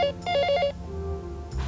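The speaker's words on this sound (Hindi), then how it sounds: "फोन उठाओ राधा," A telephone rings in a Hindi TV drama scene, sounding a fast electronic trill in repeated bursts, fairly close and alone with no talk over it.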